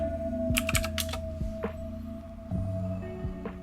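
Close keystrokes on a computer keyboard, a short burst of quick taps followed by a few isolated presses, over a low steady electrical hum.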